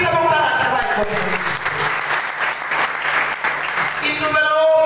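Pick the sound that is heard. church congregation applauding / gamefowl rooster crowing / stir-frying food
church congregation applauding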